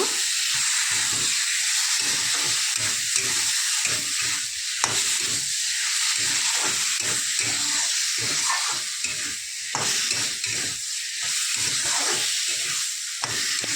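Chicken coated in turmeric, salt and cumin fries in a hot pan with a steady, close sizzle and hiss, broken by frequent scraping stirs throughout; no one talks.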